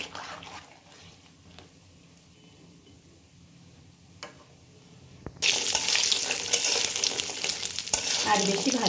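Food is stirred in a frying pan of lentil dumplings (bori) on the stove; a quiet stretch with small knocks gives way to a loud, continuous sizzle and scraping near the end.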